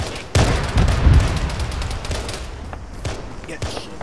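Rapid gunfire bursts and booming shots in the military game Arma, close and loud, with irregular cracks and volleys, heaviest in the first second and then continuing more sparsely against a rumbling battle background.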